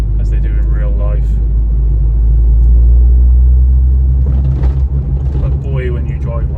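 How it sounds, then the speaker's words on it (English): Ford Focus ST225 five-cylinder engine heard from inside the car while driving, a deep, steady low rumble that swells slightly mid-drive, with someone talking over it near the start and end. "That 5-cylinder just really sings, pulls."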